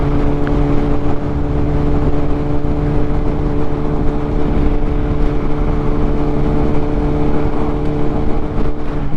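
A motorcycle fitted with a full exhaust system, running as a loud, steady droning engine note with a strong low hum that stays constant throughout, with no talk.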